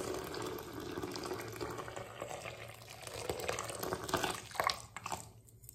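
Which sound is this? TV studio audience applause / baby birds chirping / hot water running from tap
hot water running from tap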